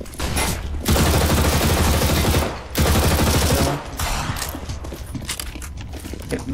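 Rapid automatic gunfire from Counter-Strike: Silver Offensive, with two long, loud sustained bursts of fire separated by a short gap, followed by quieter scattered shots.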